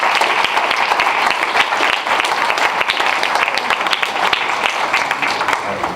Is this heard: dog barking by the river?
no